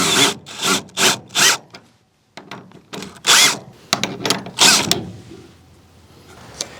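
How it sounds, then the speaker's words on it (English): A power drill bores holes for a farm gate hinge strap, run in several short bursts with pauses between, close and fairly loud, mixed with wood creaks and tool handling noises. "so go in at an angle with your drill"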